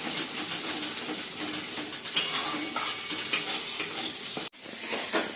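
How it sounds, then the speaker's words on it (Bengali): Eggs and carrots frying in a pan with a soft, constant sizzle, punctuated by a few sharp metallic clinks and scrapes from stirring, heard close up without any speech. "এই যে ডিম গাজর একটু ভেজে নিচ্ছি ভালো করে"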